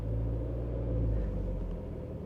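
A Jetour T2 SUV struggles through mud off-road, its engine giving a low, loud continuous rumble that strains and then eases slightly toward the end.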